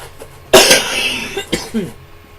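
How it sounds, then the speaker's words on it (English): Two harsh coughs from someone close by, the first louder and longer, then a shorter second cough and a brief throaty trailing sound. "Forgive me for coughing."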